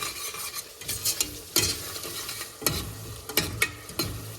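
Biryani masala with mint, coriander leaves and curry leaves is mixed in a pot for Thiruvananthapuram-style chicken dum biryani. Irregular, fairly loud spoon scrapes and knocks sound over a faint frying sizzle.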